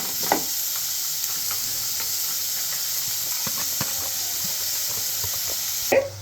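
Chopped small and large onions frying in a pan for chicken curry, a constant soft hiss of sizzling oil with occasional stirring scrapes and a louder clatter near the end.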